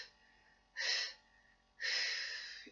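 Two sharp, loud breaths a second apart during a Pilates exercise, the first brief, the second a longer sustained exhale, with quiet pauses around them and no talk.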